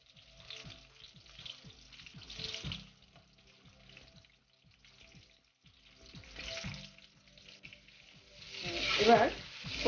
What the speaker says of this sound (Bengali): প্রায় ভাজা হয়ে এসছে, লাল হয়ে এসছে, আমি তুলবো, তুলে ফেলবো তেল থেকে।